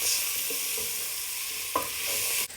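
Grated garlic frying in a pan for a rigatoni bolognese, a continuous bright hiss and sizzle with a couple of faint scrapes of a utensil, close and steady, no voices.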